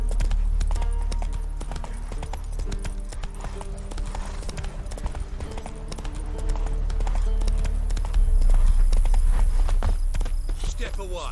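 A horse's hooves clip-clop at a steady walking rhythm in The Witcher 3, close and clear throughout, picking up into a louder, quicker pace toward the end, with game voices talking over parts of it.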